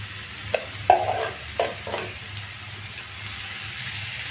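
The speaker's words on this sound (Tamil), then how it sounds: "இப்போ லைட்டாக வதக்கி விடுங்க" Snake gourd with soaked chana dal and salt is sautéed in a pan: a few soft scrapes of stirring over a faint low sizzle, quiet and close, with no talking.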